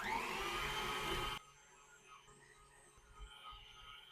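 Electric mixer whisking cake batter for a Valentine's cake, a steady loud motor whir close by that cuts off abruptly after just over a second, leaving quiet handling noises.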